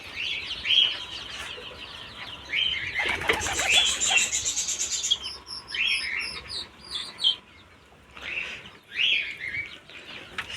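Pigeons in a breeding loft chirp and call, with repeated bright tweets and a burst of fluttering and clucking midway, close and fairly loud with short quiet gaps.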